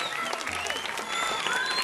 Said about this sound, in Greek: Δεν είπαμε τώρα πολύ χειροκρότημα